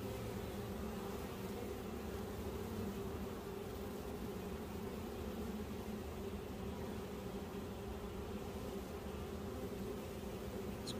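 A honey bee swarm buzzes in a dense, continuous drone close by while being moved by hand into nuc boxes, the steady hum filling the whole stretch without speech.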